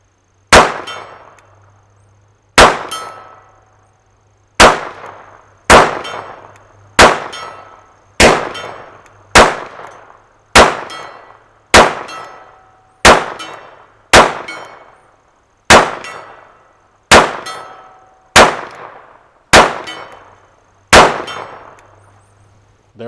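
Kel-Tec P17 .22 pistol rounds ring off a steel circle target at 60 yards, producing fourteen sharp metallic clangs at a steady pace, each with a short decaying ring and no talking.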